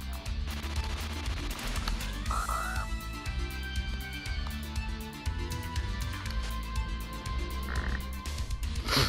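Frog King boss croaking in Castlevania: Rondo of Blood, a few short croaks set against constant loud, busy game music and sound effects.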